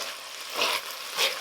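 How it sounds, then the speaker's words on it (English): Bacon browns in a pan with a steady, close, hissing sizzle that swells twice in short surges. No voices are heard. "you can hear that sizzling away nicely"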